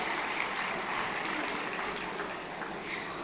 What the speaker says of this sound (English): Please give them a round of applause as they make their way